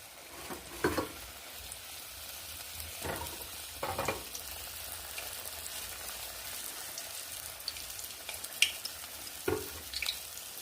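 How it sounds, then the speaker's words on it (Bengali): Whole-egg chops, some coated in a palm-fruit batter, fry in a generous amount of oil with a soft, continuous sizzle. A few brief clinks and scrapes from turning them break through the quiet crackle. "একটু বেশি পরিমাণ তেল দিয়ে ভাজতে হবে"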